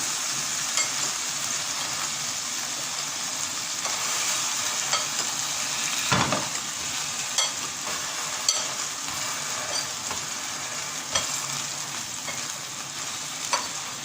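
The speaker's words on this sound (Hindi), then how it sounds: "ये सारे स्पाइसेस मैंने इसमें ऐड कर दिए और इसको मैं अच्छी तरह मिक्स करूँ" Chicken with pepper, salt and spices being stirred in a frying pan, a loud continuous sizzle with repeated scraping and clinks of the utensil, close and steady without talk.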